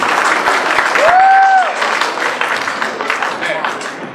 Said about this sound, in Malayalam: ആദ്യം കൈയടിച്ച അത്രയും പേര് ഇപ്പൊ കൈയടിക്കുന്നില്ല